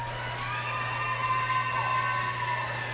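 Crowd at a women's college basketball game between Carthage and Illinois Wesleyan, a steady indistinct murmur of spectators in an indoor gym with a low hum and faint scattered voices.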